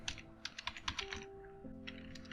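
Code being typed on a computer keyboard, with quick bursts of close, crisp keystrokes that slow into a few scattered taps.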